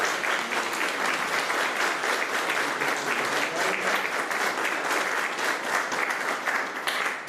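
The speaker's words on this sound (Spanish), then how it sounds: "les damos un fuerte aplauso a este ministro" Congregation in a church applauding a minister before the final blessing, a steady dense wash of clapping sustained for several seconds at even loudness.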